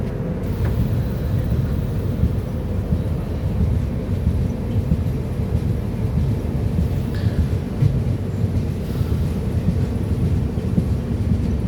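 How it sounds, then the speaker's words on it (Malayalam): A train moving along the track gives off a steady, loud low rumble and rattle for the whole stretch, with no talk over it. "ഇത് ട്രെയിൻ മുന്നോട്ട് പോകുന്നു, റൈറ്റ് സൈഡാണ്."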